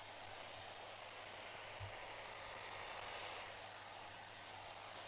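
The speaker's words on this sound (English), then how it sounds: "So dried off again with the hairdryer." A hair dryer blows steadily on damp metal parts of an old Stanley jointer plane in a garage, a continuous broadband airy roar with a low hum holding evenly for the whole stretch.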